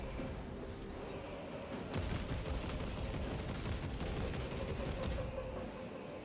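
Rapid gunfire against swarming Tyranids in Warhammer 40k: Space Marine 2, a dense rattling stream of shots that grows louder partway through, with a low rumbling backdrop and no talk.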